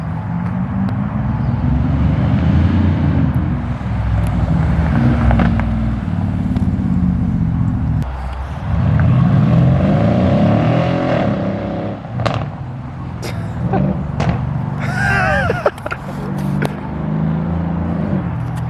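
A loud, rumbling straight-piped Mercedes GLE 63 AMG engine idles and revs repeatedly, with deep throaty exhaust swells rising and falling close by and turbos clearly audible.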